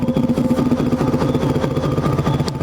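A new Land Rover Defender 110 fitted with a QuickSilver V8 exhaust sound generator idles loud and close, giving a throbbing, rhythmic burble that keeps pulsing steadily throughout.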